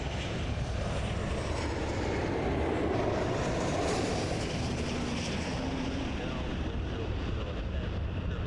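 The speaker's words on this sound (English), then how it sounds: "Listen to those engines." Airliner jet engines at Toronto Pearson Airport roar as a loud, steady, continuous broadband rumble with wind buffeting the microphone, holding constant throughout.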